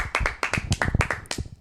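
Podcast hosts clap together in a short burst of quick, close, sharp hand claps over less than two seconds, with no speech.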